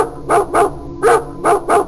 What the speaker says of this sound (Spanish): El perro ladró, como siempre.